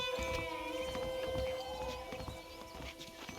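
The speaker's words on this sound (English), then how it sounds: "The horses are saddled up over here." In the video game Red Dead Redemption, horse hooves clip-clop in a steady rhythm under soft background music, at moderate distance and fairly quiet.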